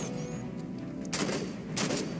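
Two short bursts of gunfire from Halo 5 Guardians, each lasting about a quarter second, fairly close over a low steady game background.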